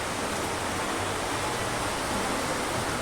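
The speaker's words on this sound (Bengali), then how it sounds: "এই দেখো জল পড়ছে।" A steady, dense hiss of heavy rain in a storm pours continuously, loud and unbroken, with no voices.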